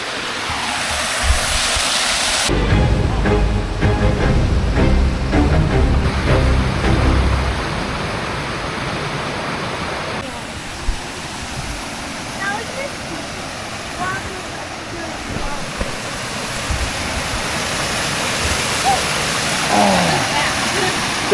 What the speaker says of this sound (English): It's our little waterfall.